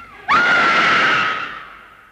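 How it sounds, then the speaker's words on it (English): A woman lets out a single loud, piercing scream in a vintage Hollywood RKO film scene, starting abruptly and holding steady before slowly fading out. "Scream for your life."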